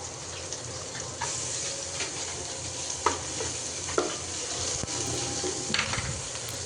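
Sliced green chillies and dried chillies fry in a pan with a steady close sizzle, broken by several sharp scraping stirs and clinks of a utensil against the metal.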